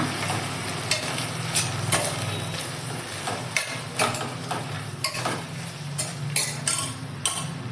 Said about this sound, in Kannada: ಸ್ನೇಹಿತರೆ ಇದನ್ನ ಸ್ವಲ್ಪ ಎಣ್ಣೆಲೆ ಫ್ರೈ ಮಾಡೋಣ